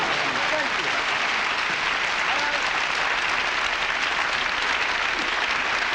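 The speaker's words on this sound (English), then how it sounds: "Please applaud." A studio audience claps in a dense, steady burst that holds at an even loudness from start to finish and sounds close and full.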